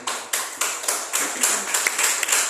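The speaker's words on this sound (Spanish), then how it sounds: "denle un aplauso al Señor" Church congregation clapping steadily during a weekly worship service, a dense run of rhythmic claps that gradually loosen into scattered, uneven hand claps, heard alone without speech.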